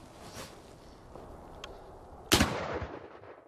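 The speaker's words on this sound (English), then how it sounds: "Then the musket could be cocked, take a priming cap, place it on the nipple, and the musket will be ready to fire." A Civil War muzzleloader musket with a percussion priming cap fires a single loud, sharp report that trails into a decaying echo, preceded by quiet handling noises.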